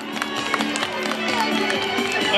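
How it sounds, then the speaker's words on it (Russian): An audience at a Cross of the Nation 2017 race awards ceremony applauds the winners, a spread of scattered clapping from the crowd that runs throughout the moment, with a few louder claps standing out. "Ваши аплодисменты."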